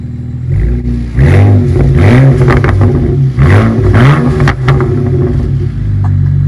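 A BMW 335i N54 engine with a burble tune revs loudly several times, rising and falling in quick pulses up close, with a rough idle between blips.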